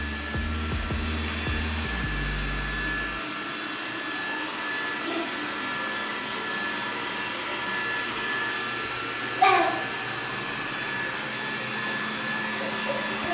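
A Dreame Bot D10 Plus robot vacuum cleaner runs with a steady whirring hum throughout, preceded by a few brief low tones at the start, with faint voices in the background.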